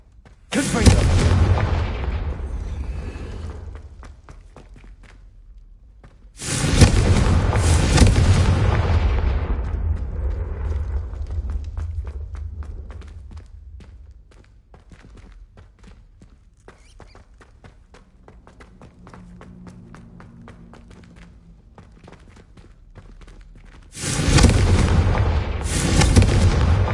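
Blasting-spell explosions in a Harry Potter video game, three heavy booming blasts spaced several seconds apart, each with a loud attack and a long rumbling decay, with quieter footsteps and ambient game sounds between them.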